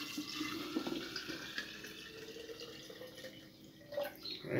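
Water poured onto brown sugar in a container while making apple cider vinegar at home: a continuous close splashing and trickling stream runs steadily throughout, with no talk over it.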